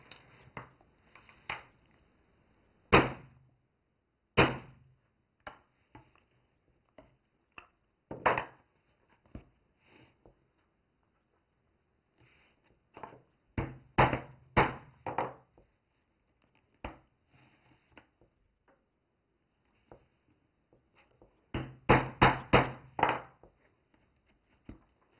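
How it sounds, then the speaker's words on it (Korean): Holes punched one by one in a leather strap for a crossbody mini bag, sharp isolated knocks and taps in quiet clusters spread out over time, with a rapid burst of strikes near the end. "저는 5cm 간격으로 이렇게 해서 4개만 뚫어 보겠습니다."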